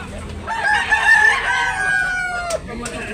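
A single bullstag rooster crow rings out nearby at a chicken market in Tabunok, Talisay, Cebu, rising and holding before trailing off, with faint background noise and no talking.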